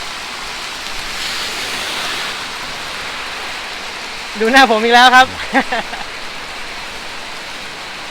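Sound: heavy rain

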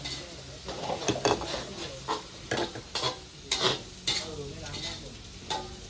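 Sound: stirring and stir-frying food in a pot

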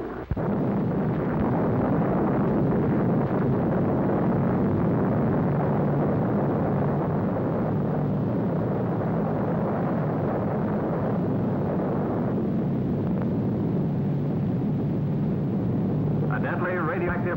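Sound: atomic bomb explosion, 1946 Bikini test

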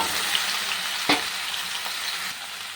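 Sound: frying ridge gourd and potato in hot oil

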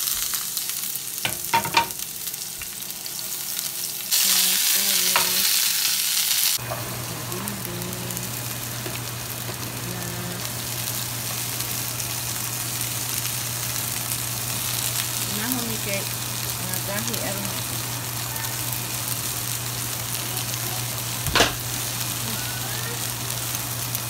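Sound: food frying and being stirred in a pan

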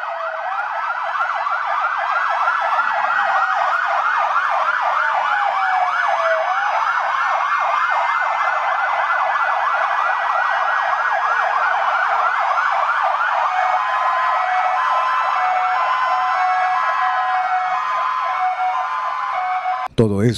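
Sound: Red Cross ambulance and fire department sirens sounding

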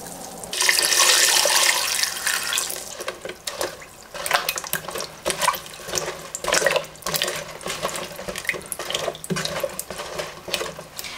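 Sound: tap water running to cover fruit

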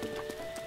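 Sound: horse hooves in Breath of the Wild video game

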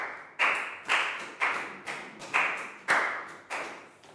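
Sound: classroom applause

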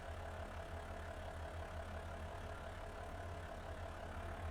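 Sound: tractor engine starting and idling in video game Farming Simulator 25

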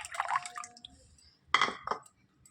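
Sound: pouring tamarind water into liquid

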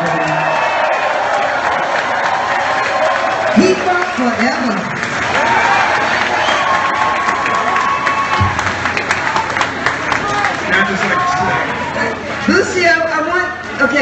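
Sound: audience applause and cheering

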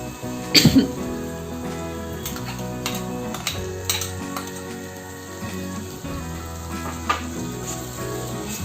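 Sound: tomato puree sizzling in pan with fried spices

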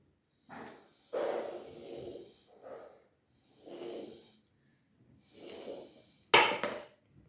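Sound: blowing through a straw to move a cup

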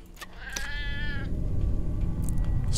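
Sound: cat meowing in the video game Sheltered

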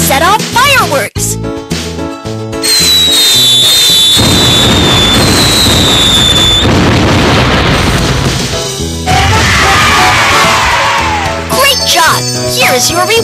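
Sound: fireworks going off in Baby Panda's Ship

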